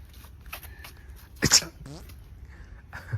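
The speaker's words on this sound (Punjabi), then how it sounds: "ਮੈਨੂੰ ਛਿੱਕ ਜੀ ਆ ਗਈ" A single sharp sneeze bursts out near the middle, loud and close, with a few soft murmurs before and after.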